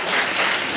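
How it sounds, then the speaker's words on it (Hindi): A group claps for a student at a school summer camp event. The applause is brief, dense and loud, with no voices over it. "अभी क्लैप फॉर माधुरी"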